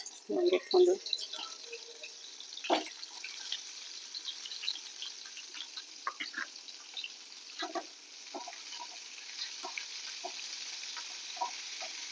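Stuffed eggplant fries in oil in a pan, giving a steady, faint crackling sizzle with scattered pops and stirring clatter, and a person talks over it.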